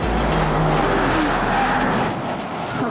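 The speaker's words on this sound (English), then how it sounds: "We are going top speed around this corner." A car taken at top speed through a corner roars loudly and steadily, with faint tire squeal layered over the dense engine and road noise.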